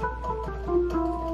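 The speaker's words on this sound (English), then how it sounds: "And this sound is called FM bells." FM bells preset from Halion Sonic SE3 in Cubase plays a few soft chiming bell notes in a short melodic figure, fairly quiet over a low steady hum, with no talking.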